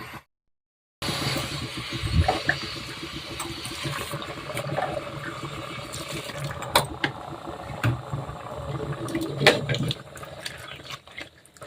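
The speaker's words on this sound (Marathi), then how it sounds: "पाणी घालायचं" Water poured into a pot while cooking wheat chik (starch paste) for white wheat kurdai, a steady liquid pour running nearly the whole time with a few brief knocks.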